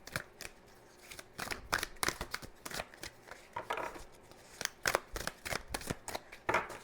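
A tarot deck being shuffled by hand for a Libra reading gives quick, close riffles and crisp card snaps in uneven bursts at moderate volume, with no talking.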